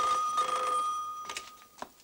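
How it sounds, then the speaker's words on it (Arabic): A telephone ringing in a home, a loud, near bell-like ring that sustains then breaks into a few shorter bursts, with no talk over it. "طب رد بس على التليفون."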